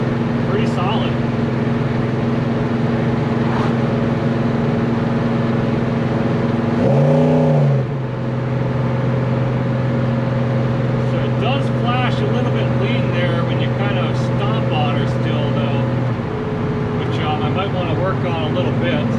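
A Chevrolet Chevelle pulls steadily up a hill under light throttle, its engine drone holding an even pitch throughout with a brief wobble partway through, while someone talks over it.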